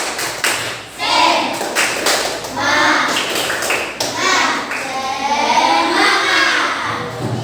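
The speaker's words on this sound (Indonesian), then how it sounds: "Tepuk semangat." Schoolchildren in a classroom perform a rhythmic spirit clap, bursts of patterned clapping and tapping mixed with children chanting and shouting together, loud and close.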